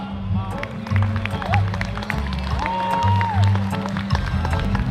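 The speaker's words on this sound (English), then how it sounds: "If you're having a good time, how about a round of applause?" Round of applause from the crowd at a Hawaiian sovereignty gathering, moderate clapping spread through the clip and mixed with crowd noise and a background musical tone, with some voices present.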